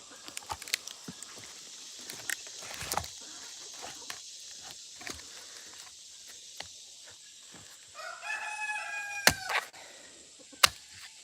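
A rooster crows on a homestead, a short burst of rising and falling calls midway, far off and faint among scattered scratching, footsteps and light clatter from chickens, with no voices.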